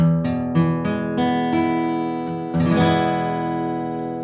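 Opening chord on guitar, strummed cleanly several times in a steady rhythm, each strum ringing out with bright sustained strings, then a final strum left to fade.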